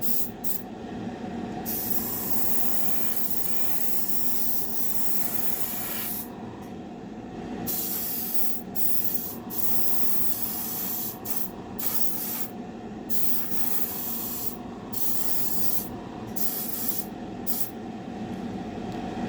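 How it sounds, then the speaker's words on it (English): Continuous airbrush spray at about 23 PSI painting a 1932 Ford roadster panel, hissing steadily, with brief pauses as the trigger is released and pressed again, close and fairly loud. "I'm probably running about 23 PSI on the airbrush right now"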